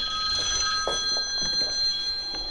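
Telephone rings with repeated bright electronic tones, steady and fairly close, filling the whole moment with no talk over it.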